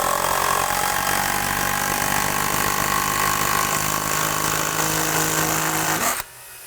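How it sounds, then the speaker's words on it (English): A power tool drives a lag bolt into a wooden structural beam, a loud, steady mechanical whine and rumble held for about six seconds before cutting off abruptly to a quieter background. "When you're driving a lag bolt, drive it till it won't drive no more."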